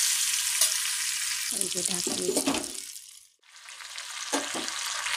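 Pumpkin curry vegetables fry in oil and get stirred in a pan, making a close, steady sizzle that briefly falls almost silent midway before resuming, with short bursts of talking over it.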